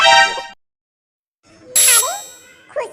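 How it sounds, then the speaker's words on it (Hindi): A cartoon phone ringing in a Hindi family drama, two bright electronic ring bursts separated by a short silence, loud and close, with a brief tonal chirp trailing after the second ring. "खुशी का फोन आ रहा है।"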